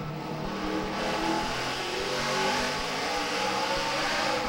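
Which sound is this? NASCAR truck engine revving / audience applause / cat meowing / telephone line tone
NASCAR truck engine revving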